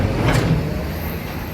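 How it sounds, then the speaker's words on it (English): Lorries rumbling past on a road, a loud close low roar with a brief hiss sweeping by, heavy traffic noise filling the whole moment. "So many lorries here."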